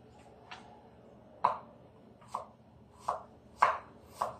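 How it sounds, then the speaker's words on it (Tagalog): A knife slices through bitter gourd (ampalaya) on a cutting board in six or so crisp, evenly paced cuts, each a short thud with a faint tick, close and quiet against a near-silent background. "maggayat na tayo"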